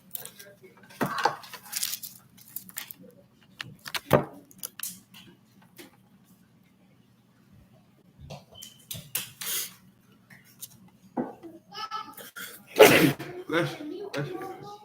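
A single sharp sneeze bursts out amid intermittent close handling clatter, clicks and taps, with people talking in short bursts between quieter gaps.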